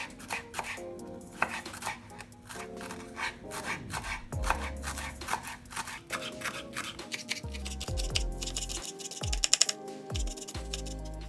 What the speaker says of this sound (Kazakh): Ол үшін бірінші петрушкамызды тураламыз.